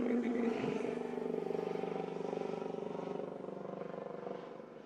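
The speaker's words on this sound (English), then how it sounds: "There's a helicopter going by." A helicopter drones steadily, its rotor thudding in a fast rhythmic pulse that slowly fades as it passes by.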